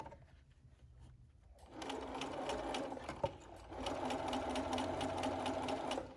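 A sewing machine starts up and runs in steady rapid stitching bursts while sewing a fitted face mask, close and moderately quiet, with a brief pause and a small click partway through.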